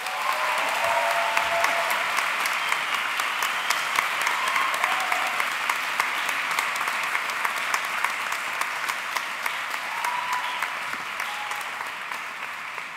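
An audience at a 2018 baccalaureate ceremony breaks into sustained, loud applause for Professor Elizabeth Coggins, with dense clapping holding steady for the whole stretch and a few brief voices under it.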